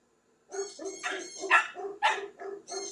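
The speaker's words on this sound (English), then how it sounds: "No more barking, please." A dog barks repeatedly in quick, uneven bursts, loud and close, with no other sound around it.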